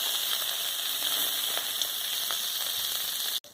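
Crab frying in hot oil in a pan, a steady close sizzle with small crackles and pops throughout, cut off abruptly near the end.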